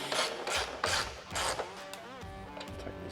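A 10mm ratchet tightens fairing bracket bolts on a Harley M8 Softail, giving rapid clicking ratchet strokes in several close bursts, followed by fainter mechanical rubbing and squeaks.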